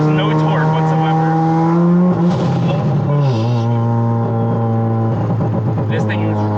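A 460-horsepower Mazda RX-7 rotary engine revs hard on a wet road, its loud, close tone droning and dipping between throttle changes while the tires spin; someone speaks over the engine noise.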